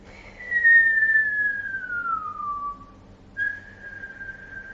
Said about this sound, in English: you're going to breathe in over pursed lips and whistle